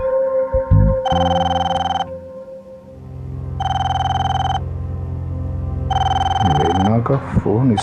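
A telephone rings in three long electronic bursts with pauses between them, over a low background hum, and a voice speaks briefly near the end.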